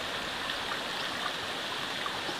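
Stream water flows steadily near Gaway Gaway Falls in Burias, Masbate, a continuous broadband rushing and trickling wash with no breaks, fairly close and alone without voices.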